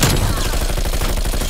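Sentry turret gunfire in the video game Call of Duty: Black Ops Cold War, a rapid, loud, continuous stream of automatic shots in close succession.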